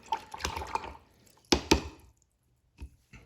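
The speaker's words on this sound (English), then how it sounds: "so we're going to rinse our brush off really well again" A watercolor paintbrush is swished and rinsed in a water jar, making a cluster of close splashes and drips, then two sharper sloshes midway and a few faint trailing drips.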